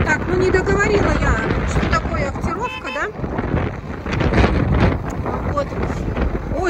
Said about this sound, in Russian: Смотрите, как дует.